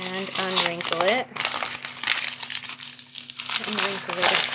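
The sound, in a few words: paper being crumpled and wrinkled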